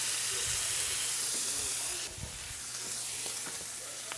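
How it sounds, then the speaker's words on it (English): Pork tenderloin sears in a hot pan with a dense, continuous hiss and sizzle, loud and close, easing slightly partway through. "we're gonna give it a good sear on all four sides"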